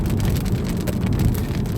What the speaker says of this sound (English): We've got some rain coming back in now.